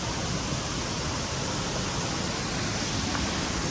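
A waterfall near Mussoorie gives off a constant, even roar of rushing water that stays unchanged throughout, with no voices.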